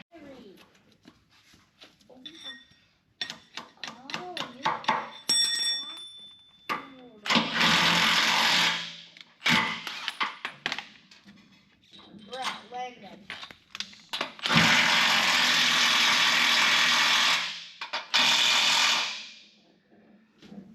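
Power drill boring holes into a shop floor to anchor a Challenger 10K two-post car lift, several loud sustained drilling bursts separated by pauses, clattering tool handling and someone talking between runs.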